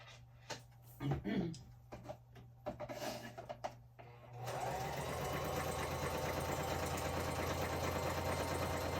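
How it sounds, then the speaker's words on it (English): Faint rustling and handling noises give way to a sewing machine stitching a long stitch at length 4, a steady rapid mechanical whir that continues evenly to the end. "I went over to my sewing machine and I did like a long stitch"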